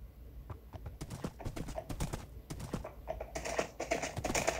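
Rapid clip-clop of horse hooves in Minecraft, steady and fairly close, with a brighter burst of hoofbeats near the end.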